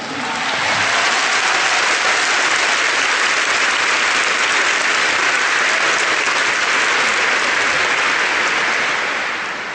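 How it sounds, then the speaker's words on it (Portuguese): A Brazilian audience at a retreat talk bursts into dense, sustained applause, many hands clapping loudly and evenly for about ten seconds with no voices over it. "Often you Brazilians clap before I finish the sentence."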